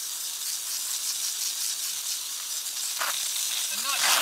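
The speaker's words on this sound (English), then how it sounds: "what I like to do anyway, is just kind of take a pressure sprayer" A pressure sprayer washing soil off the roots of a wild-collected juniper yamadori bonsai, a steady close hiss of spraying water with brief higher splashes near the end.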